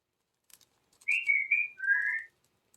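A pet talking bird whistles a short two-part phrase, a clear rising-then-falling note followed by a lower sustained whistle, close and alone after a few faint clicks.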